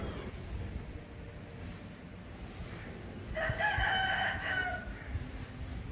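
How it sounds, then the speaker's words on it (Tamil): A rooster crows in the distance partway through, its call rising over a steady bed of outdoor background noise near a temple in Aruppukottai, Tamil Nadu. "இங்கே உள்ள சேவல்களுக்கு இப்போ தான் வெடிஞ்சிருக்கும் பொறுப்பு கூவிட்டே கிடக்கு"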